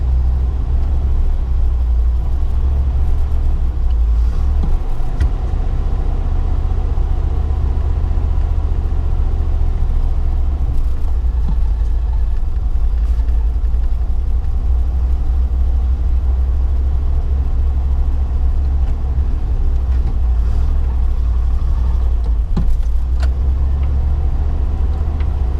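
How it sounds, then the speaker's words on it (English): A cold carbureted car engine runs up close with a rough, uneven low rumble that stutters now and then, steady and loud throughout with no talk. "the engine's still a little bit spluttery just where it's cold and it's just needing to get warmed up."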